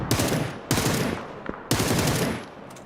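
Gunfire in a PUBG esports match, with two or three loud, close bursts of shots and decaying echoes, fired in quick succession and heard without talk.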